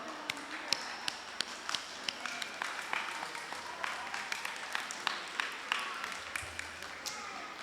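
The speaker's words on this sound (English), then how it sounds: "Let's give him a round of applause." Scattered outdoor applause for a winner at the Yap Canoe Festival, sparse individual claps ringing out irregularly at a moderate distance over a low murmur of voices and background noise.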